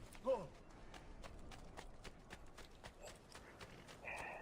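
A horse's hooves clip-clop in the Assassin's Creed 2 video game, a faint, quick run of soft hoofbeats and creaking movement in the background, with a brief voice at the start.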